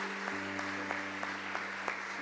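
Church congregation applauding during a Spanish-language sermon, a steady wash of clapping with a few sharper claps standing out, running over a sustained low organ or keyboard chord.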